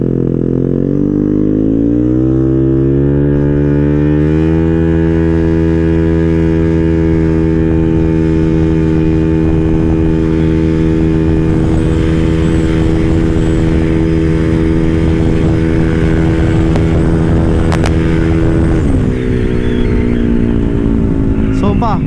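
A tuned CVT scooter accelerates and holds speed, its engine drone rising in pitch over the first few seconds and then steadying into a loud, continuous whine with wind rush, briefly dipping near the end.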